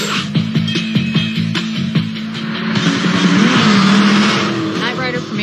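A Knight Rider KITT replica car drives with a rising engine surge and tire noise, a series of sharp clicks or thumps leading in, and a voice speaking over it.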